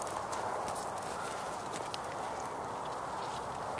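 Cows walk on a farm, their hooves making faint, uneven clopping steps over a steady outdoor hiss.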